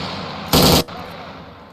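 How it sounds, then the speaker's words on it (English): One short, sharp burst of machine gun fire at a Marine Corps infantry training range, a loud controlled burst rather than sustained automatic fire, followed by a lingering tail. "As you can see, they're machine guns, but they're not going full auto."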